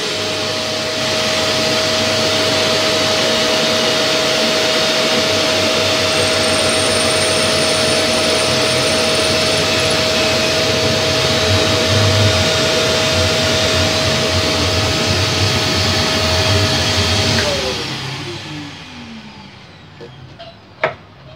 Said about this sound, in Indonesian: Baik, kita akan melakukan pengeboran.